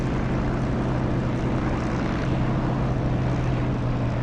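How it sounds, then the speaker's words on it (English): Aircraft engine roar in the DCS flight simulator game, a dense, loud, constant drone with a steady low hum that holds throughout without speech. "Listen to the engine noise pick up."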